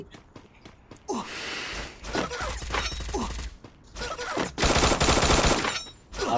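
Loud, close machine gun bursts from a squad-based shooter video game come in several long rattling volleys, with mechanical clicks between them.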